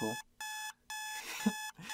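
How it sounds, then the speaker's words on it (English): Alarm clock ringing in a video game, loud repeated electronic bursts in a regular on-off rhythm, with a brief voice sound between them. "I groggily awaken to my alarm clock blaring in my ear"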